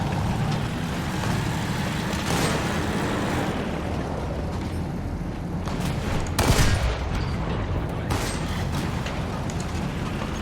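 Sustained gunfire and explosions from War Thunder fill the scene, a dense, continuous roar of shooting with a heavier blast partway through, loud throughout with no talk over it.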